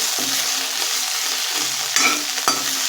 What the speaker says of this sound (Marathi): बारीक चिरलेली कोथिंबीर ॲड करायची आहे थोडीशी परतून घ्यायची आहे कोथिंबीर